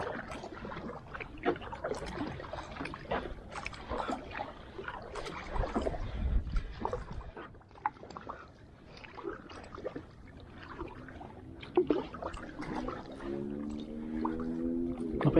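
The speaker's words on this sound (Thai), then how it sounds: "ตั้งแต่พายมาไม่สามารถพักได้เลย เพราะถ้าหยุดพาย เรือมันก็จะเข้าข้างทางอย่างเดียว" Paddles dipping and pulling as a rowboat moves along the Bang Mot canal, with a steady run of soft splashes and water swishes close by and a faint low hum toward the end.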